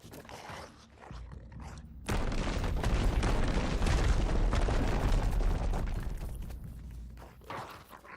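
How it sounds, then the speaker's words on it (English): Sustained rumbling blasts and booms in a Fortnite battle around a building, a dense loud wall of explosive noise swelling after a quieter start and fading near the end. "Sounds like explosions and such."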